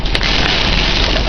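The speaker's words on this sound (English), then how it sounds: "Oh no, that's actually rain and debris," Heavy rain mixed with blowing leaves and tree debris during a 2011 tornado in Wilson, North Carolina, roars as a loud, dense, continuous hiss with a few brief sharper bursts, heard from a car stopped in a parking lot.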